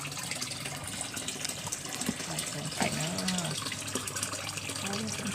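Water rushes and gushes steadily close by, running continuously while someone talks over it.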